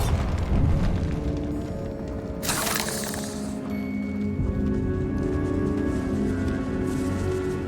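A Bombarda explosion spell in Hogwarts Legacy bursts with a short, bright blast that rises above a steady bed of game music and ambience, then decays into the ongoing background.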